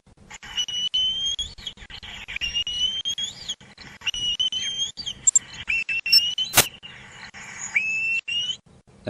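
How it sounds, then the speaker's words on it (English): A gymnogene, a bird of prey, gives a series of thin, shrill, drawn-out whistling calls with short gaps between them, fairly clear over a quiet outdoor background with a few sharp clicks. "A lot of birds of prey have got that very distinct sort of shrilling call."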